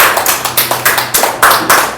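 A live audience at a health-plan seminar breaks into applause, a steady patter of rapid claps in quick bursts, fairly near and loud, with no talking over it.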